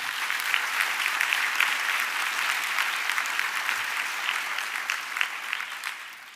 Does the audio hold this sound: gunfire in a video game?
no